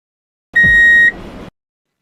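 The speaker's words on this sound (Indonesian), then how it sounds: "Setelah hanya 3 kali bunyi bip dan tanpa mengetahui kenapa" A single electronic beep, one steady tone with a faint buzzy tail, sounds once in a conformity experiment with a group of people, clear and alone.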